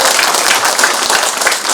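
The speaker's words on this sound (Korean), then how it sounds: "큰 박수로 환영해 주시기 바라겠습니다." An audience at a talk concert applauds to welcome a speaker, a dense, loud burst of clapping with no voices over it.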